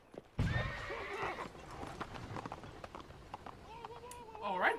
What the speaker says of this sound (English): He spooked the horses